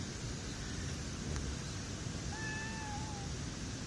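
A kitten gives a single drawn-out meow partway through, clear but modest over a steady background hiss.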